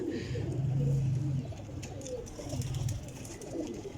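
Flying-breed pigeons coo nearby in soft, throaty low bursts, one long coo followed by shorter ones, over a quiet background.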